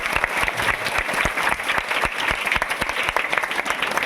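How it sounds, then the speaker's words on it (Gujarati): Loud, steady applause from an audience at a girls' school gathering honouring a teacher, dense clapping sustained throughout without talk. "રેખા મેડમ માટે જોરદાર તાળીઓ."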